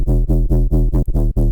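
Layered Serum synth basses in a minimal dubstep style pulse together in six or seven loud, evenly spaced stabs, thick and low with strong harmonics and short gaps between hits.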